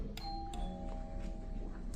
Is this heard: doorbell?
yes